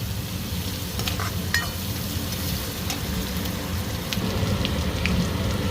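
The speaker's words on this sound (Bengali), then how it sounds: "পেঁয়াজটা প্রায় ভাজা হয়ে গেছে," Chopped onions with five or six green chillies fry in hot oil in a pan, giving a steady, close sizzle with scraping and stirring sounds throughout and no talking.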